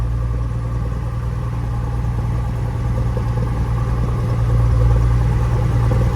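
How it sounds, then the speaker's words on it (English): Close, loud Cessna 172F Skyhawk piston aircraft engine idling smoothly, a steady low drone with an even beat that swells slightly near the end. "That engine runs awesome,"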